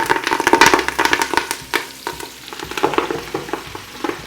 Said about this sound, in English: So I'm going to take my greens and throw them in the bacon grease.